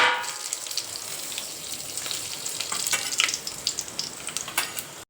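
Whole spices and cumin seeds dropped into very hot oil sizzle and crackle softly, with scattered small pops growing busier toward the end.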